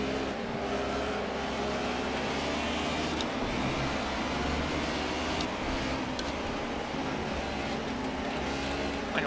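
A DTM race car engine in Project CARS roars steadily and loudly throughout, holding a dense sustained drone with slight shifts in pitch as it presses on behind another car.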